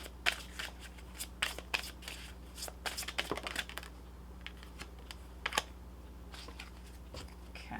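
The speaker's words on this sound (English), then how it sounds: "let's pull you some additional guidance cards" Tarot guidance cards being shuffled by hand, a run of quick papery riffles and taps at close range with short pauses between bursts, over a faint steady hum.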